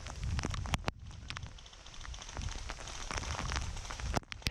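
Outdoors in Ketolanperä during midsummer, rain patters on a camera lens in a dense, irregular crackle of close drops, with a few sharp louder taps scattered through.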